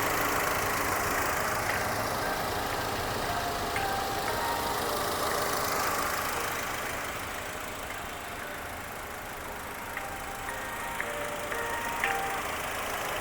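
A 2020 Hyundai Creta car engine idling, a steady low mechanical hum with a soft even churn that dips slightly midway, heard alone without talk.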